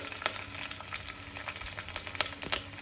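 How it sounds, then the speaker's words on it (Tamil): Fenugreek seeds crackle and sizzle in hot oil for a sardine curry. Close, busy popping and spitting runs over a steady frying hiss, with no talk. "வெந்தயம் நல்லா பொரிஞ்சிருச்சு"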